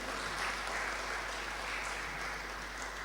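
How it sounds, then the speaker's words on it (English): Audience applause welcomes a speaker at a forum on multiculturalism and racism, a steady, moderately distant patter of many hands clapping with no talk over it. "Let's give him a warm round of applause."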